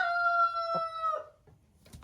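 A farm hen gives a drawn-out, tonal squawking call followed by a couple of short clucks, close and loud in a barn setting.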